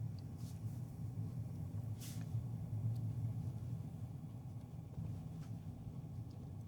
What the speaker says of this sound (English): Here we go, powder. Taking it nice and slow, powering on through.